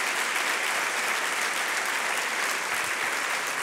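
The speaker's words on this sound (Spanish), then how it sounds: "¡Bien fuerte ese aplauso!" A church congregation applauds for the Lord during a Spanish-language worship service, with a dense, steady roar of clapping that holds evenly throughout and carries no talk.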